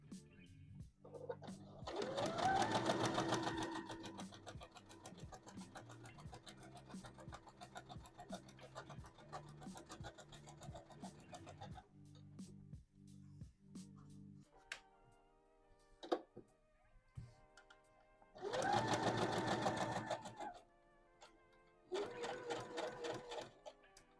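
A domestic sewing machine runs in loud bursts while stitching a dress seam, with steady mid-level stitching between, then a short spurt of back stitches and a final burst near the end.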